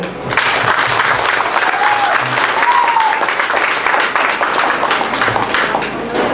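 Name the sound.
crowd applause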